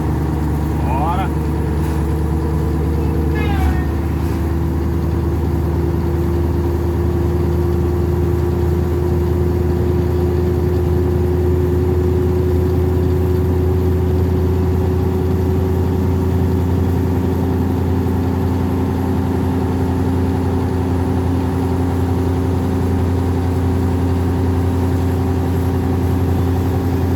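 A Scania 143 V8 truck engine runs steadily at about 1,400 rpm, a constant low droning hum heard from the cab throughout, with a couple of faint squeaks early on.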